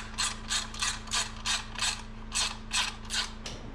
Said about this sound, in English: I am using a ratchet and not the impact.